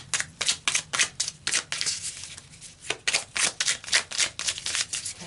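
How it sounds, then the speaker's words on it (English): Rapid riffling bursts of tarot cards being shuffled, a quick rhythmic run of flutters, a brief pause, then another run, close up. "I feel like I need to do a shuffle"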